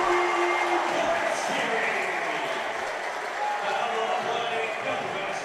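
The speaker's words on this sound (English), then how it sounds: "Just gonna let that crowd noise marinate for you. This place is so loud." A packed basketball arena crowd roars continuously at a tournament game, a loud sustained wall of cheering and noise with no break across the stretch.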